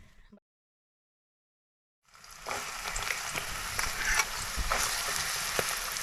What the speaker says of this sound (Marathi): हे बघा तेल तापलं की आता आपल्याला ह्याच्यात कांदा टाकायचा आहे